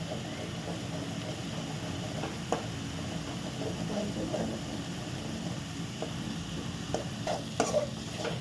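Egg mixture being stirred in a frying pan for Tamil-style egg rice, a quiet, continuous soft sizzle with scattered light scrapes and clicks of a spoon against the pan, heard close with no voice over it.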